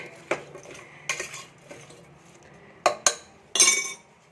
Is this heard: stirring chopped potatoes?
yes